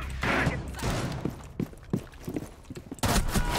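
Gunfire in Rainbow Six Siege, including a shotgun, with sharp shots and scattered bursts through a busy, loud firefight and a heavy burst near the end.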